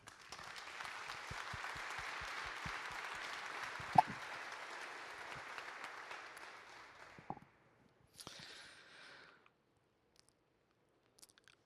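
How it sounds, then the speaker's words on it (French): Applause at an annual general assembly, steady clapping from a seated audience for several seconds, gradually thinning out and fading, then scattered quieter noises before near silence. "on peut vous applaudir"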